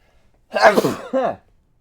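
A single loud sneeze nearby, a sharp burst followed by a shorter second gasp, then silence.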